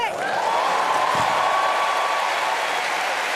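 A crowd at a Paris 2024 Paralympic powerlifting final applauds a record lift, with sustained clapping and cheering throughout and a commentator speaking over it.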